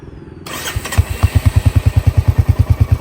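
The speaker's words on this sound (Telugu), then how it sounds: "దీని ఎగ్జాస్ట్ విందాం" A Royal Enfield Hunter 350 motorcycle starts and settles into a steady idle, its single-cylinder exhaust thumping in an even, rapid rhythm close by.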